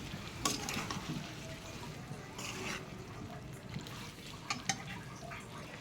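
Cauliflower frying in a cooked-down spice masala, a soft, low sizzle with intermittent stirring scrapes and small bursts, fairly quiet and close, with no voices over it.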